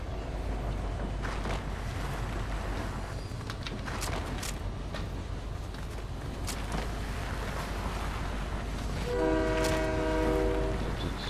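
A train rolls along in Fortnite with a continuous low rumble and rattle, then a long horn blast sounds near the end, loud and close, with no talk over it.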